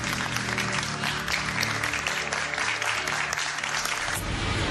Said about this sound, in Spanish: Les vamos a dar un aplauso.